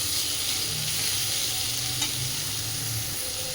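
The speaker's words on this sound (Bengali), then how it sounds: "সেই আলু ভাজার তেলের উপরেই সোয়াবিনটা খুব ভালোভাবে এবার ভেজে নেব" Soybean chunks fry in oil left from frying potatoes, giving a dense, even sizzle that runs unbroken, with a low rumble beneath and one faint stirring knock midway.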